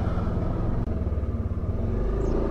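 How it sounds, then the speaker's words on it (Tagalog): A motorcycle being parked at a lakeside resort in Pantabangan, Nueva Ecija, rumbles steadily up close, its engine running continuously with a thick low drone throughout. "Papark ko muna tong motor"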